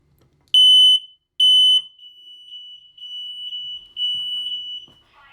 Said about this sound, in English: When we test the audibility of your smoke alarm